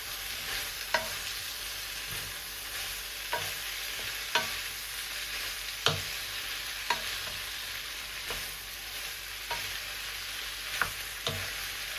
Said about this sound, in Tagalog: Ilalagay ko na ang ating repolyo.